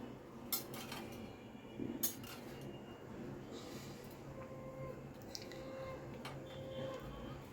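A spoon clinks and scrapes faintly against a cooking pan while ridge gourd is stirred in milk over a gas flame, with a few brief sharp taps standing out over quiet background hiss.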